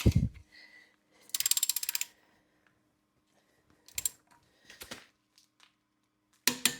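Torque wrench ratcheting on the lug nuts of a Tesla Model Y while OEM winter wheels are fitted, set around 129 foot-pounds: a quick run of close ratchet clicks, then a few short isolated clicks and knocks separated by quiet pauses.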